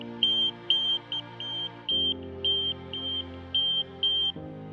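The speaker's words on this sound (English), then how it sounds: "the system wakes up, blasting a 100 decibel alternating alarm" A VHF two-tone pager sounds its alternating alert alarm, a loud electronic tone switching pitch in repeated pulses, with a high beeping chirp pattern over it, steady and insistent throughout.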